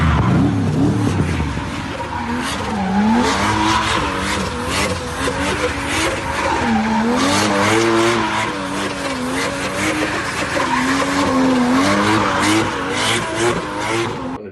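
A Jaguar E-Type converted for drifting slides at a drag racing demonstration event, tyres squealing in long wavering screeches over a loud, steady engine roar that holds close and strong throughout.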